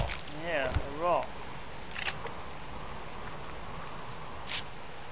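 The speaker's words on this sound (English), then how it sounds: "The rain should actually wash up your hands, really." Steady rain falls through the whole stretch in the survival game Subsistence, a constant soft hiss of drops on surfaces, with a brief voice near the start and a few faint clicks.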